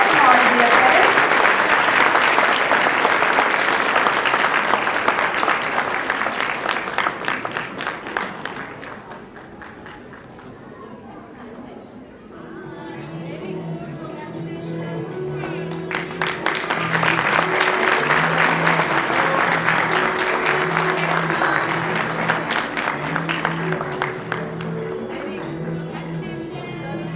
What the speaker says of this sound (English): Show your appreciation with loud applause, dear friends.